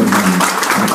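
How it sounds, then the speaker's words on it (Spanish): Warm audience applause for a speaker at a talk on the Istanbul Protocol and human rights defence, a steady dense wash of clapping throughout the short moment. "Pues yo les pido un aplauso muy cálido"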